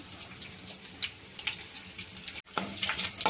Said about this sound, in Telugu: దినుసులు ఎగుతున్నాయి కదా